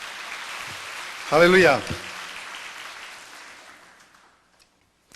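A church congregation breaks into a brief burst of applause lasting under a second, loud against a reverberant hall, with a spoken exclamation and room murmur around it.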